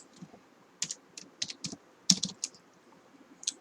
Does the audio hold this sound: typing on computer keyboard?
yes